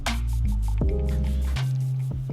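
Butter cubes whisked into a butter sauce, producing wet squishing and dripping sounds, with brief tonal hums under them, close up.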